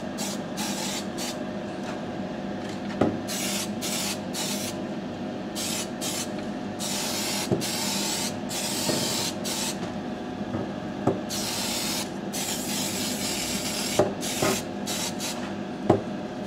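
Aerosol spray paint lays a black base coat onto MDF wargaming models in repeated hissing bursts, each a second or so long, broken by brief pauses and small knocks of the can, steady and close with no talk.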